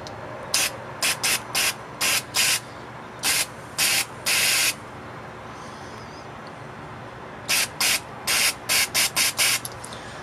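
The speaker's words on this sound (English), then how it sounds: "I'm going to spray the whole carb off real quick." Short hissing bursts of carburetor cleaner from an aerosol can sprayed onto a carburetor come in a quick cluster, pause for a few seconds, then resume in another rapid series.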